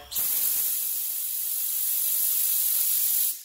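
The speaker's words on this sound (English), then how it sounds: "I'm going to spray it at I think it is 24 psi" A spray gun spraying bed liner onto a Chevrolet K20 truck frame at about 24 psi hisses in one continuous, loud, steady burst for about three seconds, starting and stopping abruptly.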